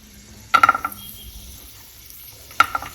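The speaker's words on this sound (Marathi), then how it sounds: "तुम्हाला आता तेल तापलंय बघू शकता इथे हीट झालंय आता त्याच्यात आपण थोडंसं लसूण टाकू" Garlic goes into hot oil already holding mustard seeds, cumin and turmeric in an electric cooker, with two brief bursts of close crackling sizzle and stirring separated by quiet simmering.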